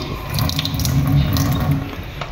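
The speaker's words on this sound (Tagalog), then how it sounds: "Ayan, gumagana na po itong tubig." Tap water runs steadily in a house's kitchen sink, a continuous close splashing wash with faint clinks, no voices.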